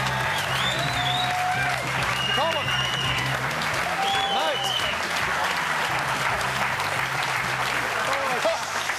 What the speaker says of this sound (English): round of applause for Shane Crawford